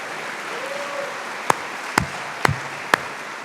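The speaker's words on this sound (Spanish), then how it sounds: "un aplauso muy fuerte para Él" A church congregation applauds after a sermon, heard as a soft, diffuse wash of distant clapping with a few sharp, louder individual claps standing out near the end.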